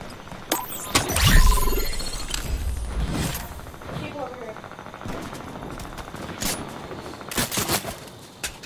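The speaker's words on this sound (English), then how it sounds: "I got people shooting at me." Rapid gunfire in the video game Fortnite, a loud burst of shots early on followed by scattered sharp cracks and short volleys at mid distance, with a voice speaking over the action.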